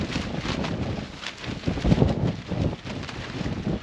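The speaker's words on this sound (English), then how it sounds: "I hope the wind is not too bad." Gusty wind buffets the microphone with a steady low rumble, swelling louder around the middle before easing back, with no voices.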